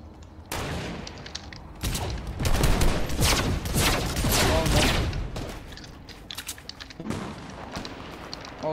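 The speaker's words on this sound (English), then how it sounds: "Someone's firing." Gunfire in the Fortnite video game, with bursts of rapid shots and booming impacts that swell through the middle and fade toward the end, loud and dense with no voices.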